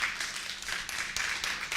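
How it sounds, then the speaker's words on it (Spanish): A church congregation claps in a brief, bright burst of applause, several quick rounds of clapping over about two seconds, moderately loud and without talk. "Dale un aplauso grande al Señor."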